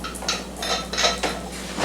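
Salt, dried mustard and white and black pepper being mixed in a bowl with a big whisk, several quick metallic clinks and scrapes in short bursts, close and clear with no talking.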